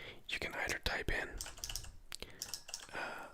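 Mechanical-switch keyboard typing in a quiet room, a quick run of sharp clicks and clacks, close and fairly soft, mixed with gentle whispered speech.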